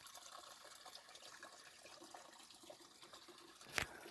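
Water trickling and running at a trail water source on the Appalachian Trail during filtering, a faint continuous liquid wash with a brief louder splash near the end.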